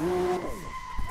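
Porsche GT2 RS tires squeal and skid briefly during a 360-degree spin, with a falling engine note and a short scrubbing screech.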